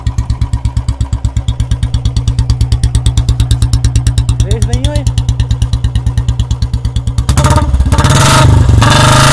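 A Royal Enfield Bullet BS6 motorcycle engine idles with a steady, loud thumping single-cylinder beat, close up, then picks up into a harsher, rougher rev near the end; someone talks briefly over it.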